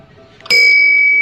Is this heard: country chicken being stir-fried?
no